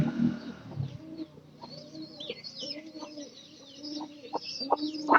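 A tethered hen kept with her chicks gives low, soft clucks in a farmyard. Faint chirps and other bird calls mix in, and the sounds are quiet and scattered.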